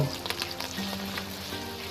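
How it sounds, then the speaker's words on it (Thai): Steady crackling sizzle of sliced pork offal deep-frying in hot oil in a pan, close up and continuous, with faint bubbling pops and no voices. "เอามาลงกระทะทอดนะครับ"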